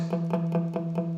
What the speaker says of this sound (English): any duff notes, any muted notes that sound like this